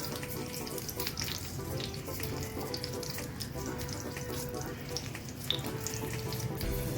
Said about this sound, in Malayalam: കരിമീൻ വാഴയിലയിൽ വാഴയിലയിൽ ആഡ് ചെയ്തത് വെളിച്ചെണ്ണയിലേക്ക് ഇട്ടു